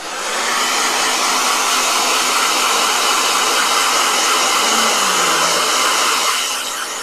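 A blow dryer runs continuously for several seconds, a loud close steady rushing whoosh with no talk, tapering slightly at the end.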